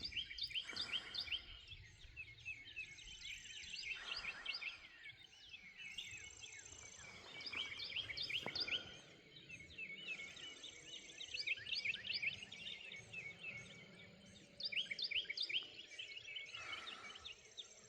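Many birds sing and chirp at once in the early morning in Georgia. Bright, dense calls repeat throughout, with a faint insect-like hum underneath and no talking.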